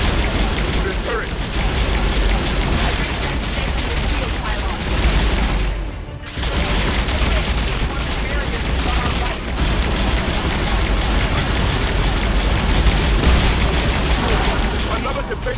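Heavy turret gunfire during an assault in the video game Mass Effect Legendary Edition, a continuous barrage of rapid shots and booms with one brief cut-off midway, and voices shouting beneath the din.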